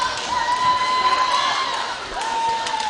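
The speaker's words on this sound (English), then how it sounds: "Crowd's getting pretty loud." Crowd cheering and shouting in a gym at a varsity volleyball championship game against Plum City, a dense, loud, continuous roar with no pauses.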